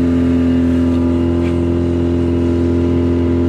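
A 1990 Honda Civic driving on a winter test run, a loud, steady engine drone heard from inside the car, constant with no talk.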